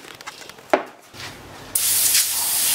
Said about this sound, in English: Just a liberal coating of brake cleaner.